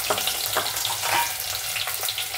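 Long-sliced onions frying in a pan for a raw papaya and fresh coconut fry, giving a steady, close crackling sizzle with small pops throughout and no talking.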